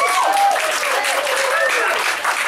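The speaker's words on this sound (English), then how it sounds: "a big Mardi Gras round of applause for Tim." An audience gives a speaker sustained, full applause at a book launch event, a continuous wash of clapping with a voice speaking over it.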